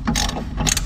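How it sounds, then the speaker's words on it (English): A ratchet undoing the last bolt while installing coilovers on a Lexus IS200, giving two quick close bursts of clicking pawl turns with no talk. "And that's how you take the last bolt."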